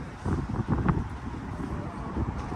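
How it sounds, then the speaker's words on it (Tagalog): Wind rushes across the microphone in a low, gusty rumble on the deck of a cruise ship, swelling and easing outdoors with no one speaking. "ang ganda ng simoy ng hangin"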